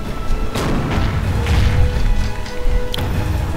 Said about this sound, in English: Oh, the fort's firing at whoever this pirate is.